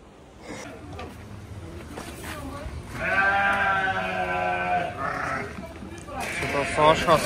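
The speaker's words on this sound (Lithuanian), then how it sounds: "Šitos ožkos valgo kartoną." Goats eating cardboard and bleating loudly nearby in repeated drawn-out calls, with people talking over and between the cries.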